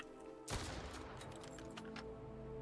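Gunshots in the Survive the Fall video game: one sharp close shot followed by a short series of fainter, scattered reports.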